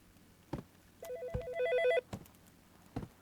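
A telephone rings in a Chinese horror video game, a repeating electronic trill in two bursts between dull thumps and footsteps, moderately loud and with no voices over it.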